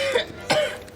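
Two short, harsh coughs close by, one after another, with no talking.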